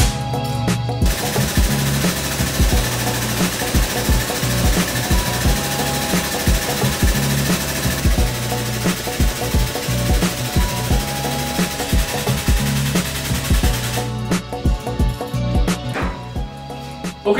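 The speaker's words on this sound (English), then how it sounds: "plug it into your favorite air compressor and give it a test" An air-over-hydraulic tube bender runs off an air compressor, a loud, continuous rapid hammering pulse like a pneumatic pump, steady for about thirteen seconds before tapering off.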